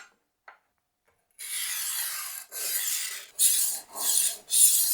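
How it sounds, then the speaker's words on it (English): A knife blade worked on the fine 1000 grit disc of a rolling sharpener, heard as four close, raspy swipes in steady succession after a brief quiet start with a couple of faint clicks. "I'm going to work it with the fine 1000 grit side of the sharpener"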